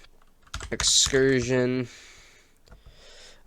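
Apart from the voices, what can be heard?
typing on a computer keyboard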